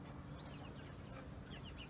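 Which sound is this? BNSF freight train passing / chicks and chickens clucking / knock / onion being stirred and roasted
chicks and chickens clucking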